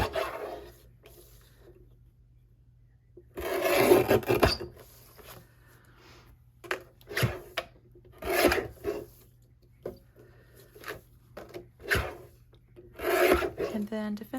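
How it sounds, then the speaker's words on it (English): Scissors trimming a Scotch-brand laminated sheet, leaving a thin border of lamination, heard as bursts of close scraping, rasping cuts separated by short pauses. "Then I'm just gonna trim down so that I have just a little bit of lamination on each"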